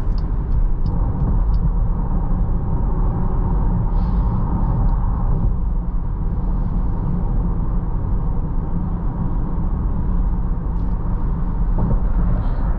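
A 2022 Jeep Grand Cherokee accelerates to highway speed. A steady low road and engine rumble carries on without a break, with wind and tire noise throughout and no talking.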